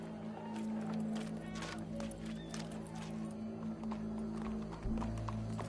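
Horse hooves clip-clopping in the open-world western game Red Dead Redemption 2, a steady run of hoofbeats mixed with an occasional whinny over a continuous ambient hum and background game sound.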